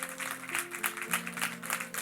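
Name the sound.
congregation applauding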